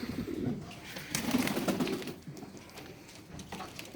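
Pigeons coo softly and repeatedly, several birds overlapping in low murmuring calls, fairly close, with no talking.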